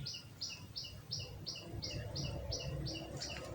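Bird chirping nearby, about ten short bright repeated chirps at an even rhythm over faint background rumble, no talking.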